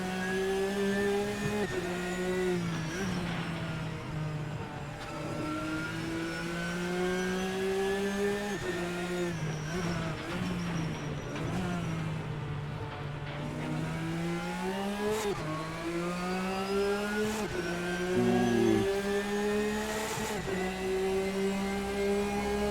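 A GT race car from the RSS GTN pack in Assetto Corsa revs hard through repeated climbs toward redline, its steady engine howl rising and dipping between gear changes, loud and continuous with a slightly shrill edge at the top.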